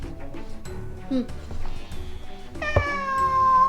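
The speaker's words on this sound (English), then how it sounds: "If you hear another cat, that's because my real cat is asking for food" A cat meows several times, ending in a loud, drawn-out meow close by, with faint speech-like sounds earlier.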